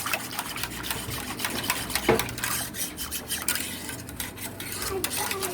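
A whisk rasps steadily against a bowl as powdered milk is beaten into a custard mixture, a continuous close scraping texture with slight rhythmic swells.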